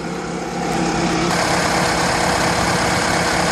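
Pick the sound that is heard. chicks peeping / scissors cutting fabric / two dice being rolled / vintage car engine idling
vintage car engine idling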